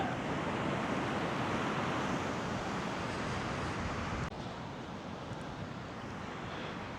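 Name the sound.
ocean waves on a beach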